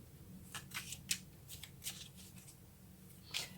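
Tarot cards are shuffled and drawn in quiet, close riffles and soft papery flicks, arriving in several short bursts spaced irregularly.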